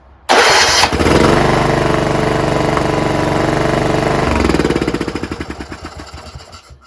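A John Deere RX75 rear-engine riding lawnmower with a modified ignition switch cranks and catches abruptly, then runs loud and steady at close range for several seconds before sputtering down and shutting off.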